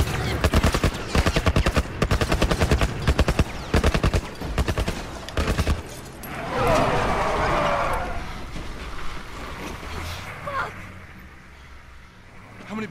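Gunfire in the video game The Last of Us, a rapid string of loud, close shots for several seconds, then tense game sounds and voices as the shooting stops.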